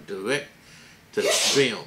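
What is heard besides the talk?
sneeze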